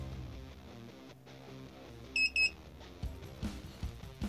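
A soldering iron station gives two short, bright electronic beeps in quick succession over a quiet background of low hum and handling noises.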